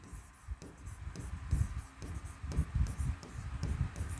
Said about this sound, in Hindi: एक मैं वाक्य लिखता हूँ